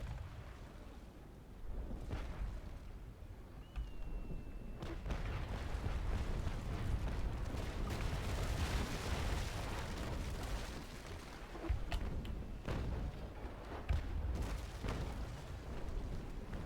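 Ship cannon fire in the naval battle game Naval Action, a run of deep booming shots and sharp cracks rolling over a constant low rumble of sea and battle noise, some near and loud, others distant.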